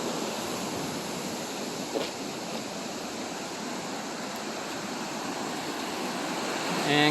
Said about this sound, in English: and come to some rapids over here.